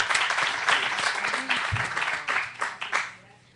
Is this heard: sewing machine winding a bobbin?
no